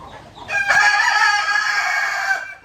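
A rooster gives one long, loud crow held for nearly two seconds, close by and strong, with no talking over it.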